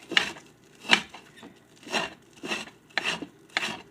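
A knife chops vegetables on a board in six or seven separate strokes, each a short crisp cut, close by and fairly quiet, with no talking.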